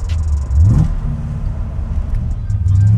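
A 1981 Corvette ZL1 with a 427ci V8 accelerating hard from inside the car: a loud, deep engine roar rising in pitch, easing briefly, then building again with a strong low rumble.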